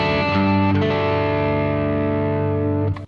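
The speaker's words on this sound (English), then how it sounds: "I've got a Keeley compressor." An electric guitar run through a Keeley Compressor Plus pedal rings out as one loud, sustained chord that stays even and smooth for about three seconds before being cut off sharply.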